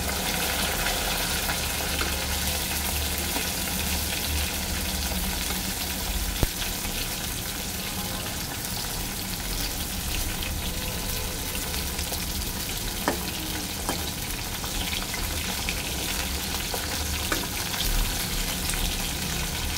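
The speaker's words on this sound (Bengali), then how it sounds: "হালকা ভাজবো পটলগুলো" Pointed gourd pieces lightly frying in oil, a steady close sizzle that runs the whole time with a few faint clicks of stirring and no voices.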